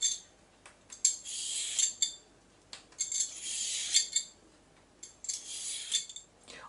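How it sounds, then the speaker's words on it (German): A knife cuts a peeled cucumber into fine strips, making a series of short, crisp strokes and light clicks against the board, spaced unevenly with quiet gaps between, close and fairly soft. "Die Gurke schälen und in feine Streifen schneiden."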